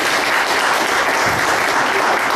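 A room full of people claps together in a thick, even burst of applause that holds steady from start to finish.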